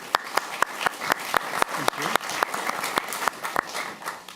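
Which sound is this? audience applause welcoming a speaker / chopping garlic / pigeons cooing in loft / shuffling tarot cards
audience applause welcoming a speaker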